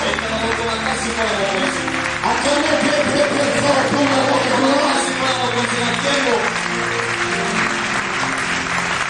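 A crowd at a church gathering for Prophète Garry Kenge applauds and cheers loudly for the king, continuous dense clapping and shouting throughout, with voices mixed into the roar.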